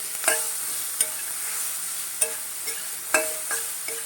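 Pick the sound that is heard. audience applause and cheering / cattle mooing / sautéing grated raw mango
sautéing grated raw mango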